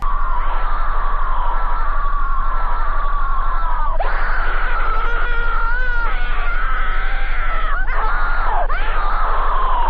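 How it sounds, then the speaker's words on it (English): Loud, sustained screaming from lost Mickey Mouse animation footage, a harsh, distorted wailing that keeps rising and breaking over a constant low hum, with no talk. "The footage is accompanied by dissonant sounds and then loud screaming."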